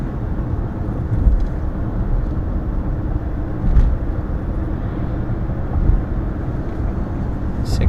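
A Volkswagen Tiguan engine idles low and steady while driving at low RPM, a continuous rumble with some road and wind noise and no clear revving.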